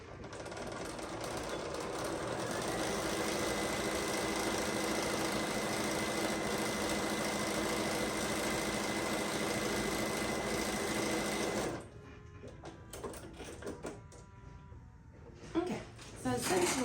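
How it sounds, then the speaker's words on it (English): Sewing machine top stitching along the double-folded edge of a fully lined apron pocket, a loud steady whirring run of about twelve seconds that then stops, followed by quieter handling sounds. "all we're gonna do is top stitch along here"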